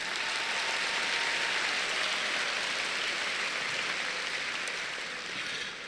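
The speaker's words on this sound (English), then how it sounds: "big round of applause" Graduation audience at a high school ceremony gives a sustained round of applause, a dense even wash of many hands clapping at a distance that fades slightly toward the end.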